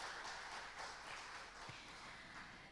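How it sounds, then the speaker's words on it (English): Light applause from an audience at a leadership programme opening event, a soft, diffuse patter of clapping that stays fairly faint and fades slightly toward the end. "I'd like to invite a big round of applause for all the sponsors"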